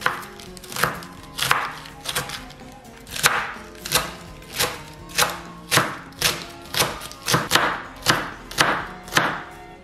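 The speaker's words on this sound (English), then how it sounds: "and then we'll just finely shred" A knife finely shreds a pile of stacked 3-inch strips on a board, giving steady, close, rhythmic thuds of chopping, about two strokes per second, with no talking.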